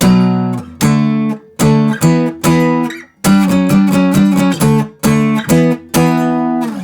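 Loud distorted electric guitar chords strike in quick, punchy bursts, changing shape every second or so, played alone with driving rhythm.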